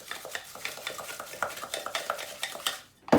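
Ingredients whisked by hand in a bowl, with rapid rhythmic clinking and scraping of a utensil against the bowl, ending with a louder knock.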